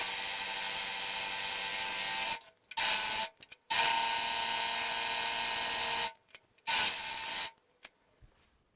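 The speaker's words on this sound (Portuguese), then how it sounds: "Vou ali pra máquina overlock." An overlock sewing machine stitches fabric in loud bursts of rapid whirring separated by brief pauses, with two long runs and a couple of shorter ones before it stops.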